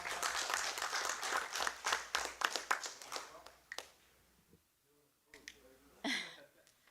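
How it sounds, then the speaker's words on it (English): An audience at a town council meeting breaks into applause, a few seconds of scattered clapping that thins out and dies away, followed by a short final burst of claps. "Can we give a round of applause for Alex Balaban?"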